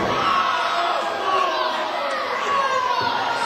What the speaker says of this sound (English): Let's give a round of applause for Jalen for supporting his dad